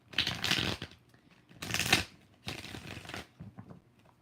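Tarot cards being shuffled by hand in three distinct bursts of riffling, crisp and close, with brief quiet gaps between them.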